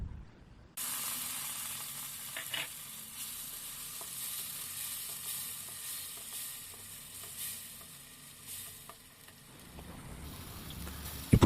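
Onion and ground tomato fry in a pan for a pasta dish: a steady crackling sizzle that starts abruptly and holds throughout, with occasional stirring scrapes and no voices.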